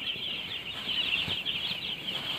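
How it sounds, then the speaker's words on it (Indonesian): A dense chorus of baby broiler chicks about three days old peeping continuously, high-pitched and steady, a close crowd of tiny cheeps with no talk. "Anak-anak ayam, baby chicken."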